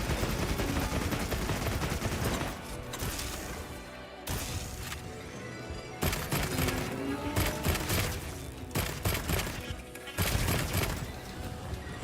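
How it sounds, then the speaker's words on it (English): Sustained rapid gunfire in a Monster Hunter Wilds beta battle, dense, loud and continuous with short breaks and heavy impact bursts layered over the din. "Let's machine gun his face."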